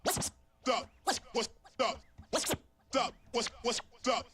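Rhythmic turntable scratches using the slice technique, a series of short, sharp swipes in a steady back-and-forth pattern, about nine bursts, close and clear.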